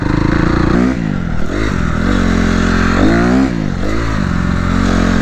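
Honda CRF250R dirt bike engine held at steady, loud revs with repeated throttle blips and surges as the front lifts slowly in low wheelies and the brake is pressed.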